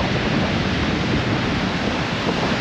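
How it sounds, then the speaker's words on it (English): Rough sea at Playa de Palma, Mallorca, gives a steady, loud roar of breaking surf, broadband and continuous with wind buffeting the microphone. "We've got breaking waves way out there."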